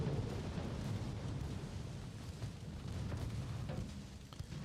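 A torpedo explosion in the naval warfare game Ultimate Admiral: Dreadnoughts, heard as a sustained, rumbling boom with broad low-end roar and no speech.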